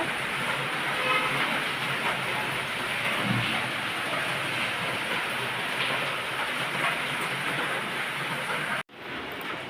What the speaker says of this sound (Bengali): দেখো কেমন বৃষ্টি, এটা থামার বৃষ্টি নয়